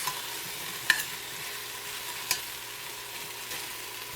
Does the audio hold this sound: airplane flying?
no